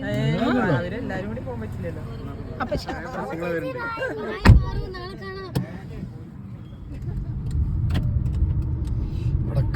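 Cars at a wedding celebration, with a low engine rumble and passing-vehicle noise that swells toward the end, under people chatting and talking nearby.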